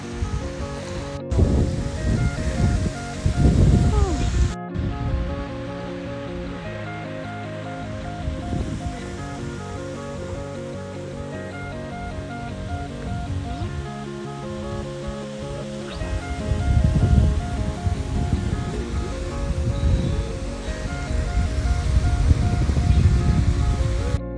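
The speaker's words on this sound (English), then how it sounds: "Oh, it's like a little waterfall right there." A small waterfall rushes in a steady broadband wash throughout, partly masked by continuous music, with a louder surge toward the end.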